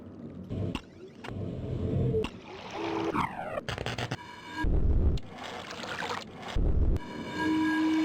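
A whistle sound effect in the video game realMyst, heard as a series of abrupt, shifting tonal bursts and splashy hisses that end on a steady, sustained pitched tone, with no speech.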